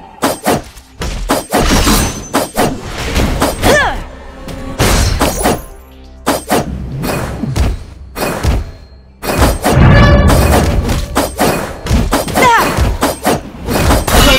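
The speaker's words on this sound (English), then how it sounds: "Your team has destroyed a turret." Turret destruction in the mobile MOBA Legend of Ace, heard as loud repeated shattering, crashing impacts and heavy thuds in a dense, busy stretch of game combat effects with brief pauses.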